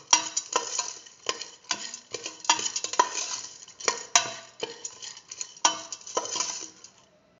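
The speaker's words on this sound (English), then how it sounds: "mix thoroughly" A utensil scrapes and clinks repeatedly against a pan in an uneven rhythm while stirring kidney beans and potatoes with turmeric, with a soft sizzle underneath; no voices.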